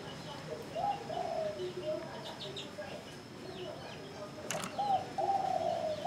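A spotted dove coos in a series of soft, repeated low calls outdoors, moderately close, with faint chirps and background noise around it and a brief sharp click partway through.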